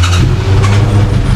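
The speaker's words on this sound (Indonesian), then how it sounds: "Saya mau tes hidup ya, kemarin udah lama after crash belum dihidupin" A car engine, first started after crash repair and fitted with an Aero exhaust, rumbles loudly and close by, running steadily with a deep low drone.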